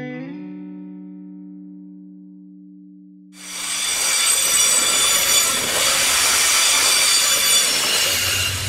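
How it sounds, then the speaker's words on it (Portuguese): A Vale freight train hauling cargo from Goiás: a horn sounds at first and fades, then the loud rolling rumble of wagons with squealing wheels takes over and passes close by, steady to the end. "Esse trem da Vale que está vindo aí"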